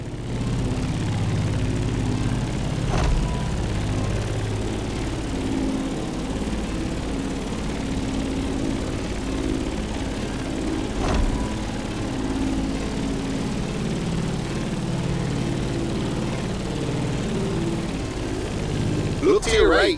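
Light propeller aircraft engine droning steadily while climbing in flight over Hawaii near Molokai, a loud continuous low rumble with a few faint clicks.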